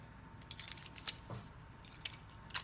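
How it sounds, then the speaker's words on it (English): A piece of tape is pulled and pressed down while assembling a handmade stamped birthday card. Short sticky rips and light taps come close and quiet, spread irregularly through a few seconds. "get another piece of tape and tape this down"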